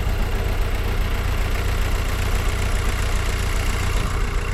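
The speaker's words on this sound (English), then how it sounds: "the engine's misfiring quite a lot" A VW Golf R MK6 engine idles roughly with a misfire, a steady close mechanical drone with uneven knocking pulses running throughout, no talking.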